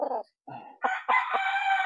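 A single game fowl rooster crows close by: a couple of choppy notes building into one long, loud, sustained cock-a-doodle call.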